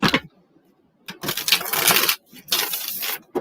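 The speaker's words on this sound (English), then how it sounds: "3 shuffles for Travis." Tarot reading cards shuffled by hand in three quick bursts of crisp riffling and slapping, close and loud, separated by short pauses.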